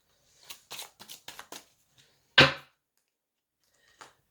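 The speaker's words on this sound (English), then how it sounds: "I want you to see that I'm shuffling" Several quick papery riffles of tarot cards in a row, a short pause, then one louder crisp burst of cards, followed by a faint final flick.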